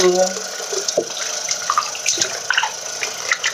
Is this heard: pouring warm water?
yes